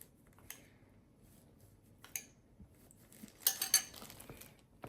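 A spoon stirs passion fruit into mango pulp in a bowl, giving a few soft scrapes and light metallic clinks against the dish, with a brief cluster of brighter taps near the end. The sounds are close and quiet, with no talking.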